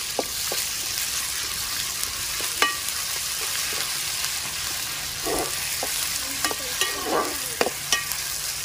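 Ginger-garlic paste frying with onions in a pan for a mutton and taro pulusu, stirred with a spoon: a steady sizzle under repeated scraping and clinking strokes, close and clear, no talk.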